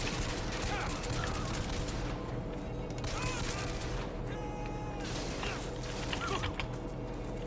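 Pistol fire in the video game Bioshock Infinite, with a string of fairly faint, sharp shots cracking over a constant background of game noise.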